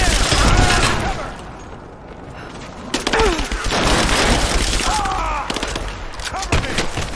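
Loud bursts of automatic gunfire and scattered single shots in a Rise of the Tomb Raider firefight, with a brief lull before heavy shooting resumes, and shouted voices mixed in.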